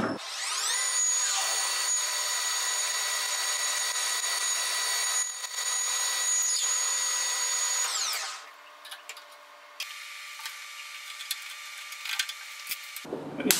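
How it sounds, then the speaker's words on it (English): A metal lathe drills out a part, giving a loud, steady whine for around eight seconds, then it drops to quieter scraping and machine hum before a final clunk. "We'll go down to 6/20 for drilling that."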